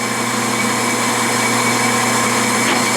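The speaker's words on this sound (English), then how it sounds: "I just want to see if the drill slips in the chuck." Drill bit spinning in a Jacobs super ball-bearing drill chuck on a machine, a loud steady motor whine with a constant hum and no pauses, close and alone.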